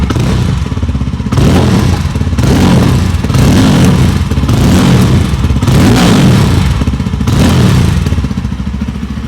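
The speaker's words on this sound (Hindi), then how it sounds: "इस बाइक का जो एग्जॉस्ट साउंड है काफ़ी बेस है, और इस बाइक का इंजन अपने एग्जॉस्ट के बैक फायर भी मारता है" A 2025 Yezdi Roadster base-model motorcycle revs loud and close, with repeated rhythmic throttle blips and deep exhaust bursts interspersed with thumping, crackling backfire pops, and no voices.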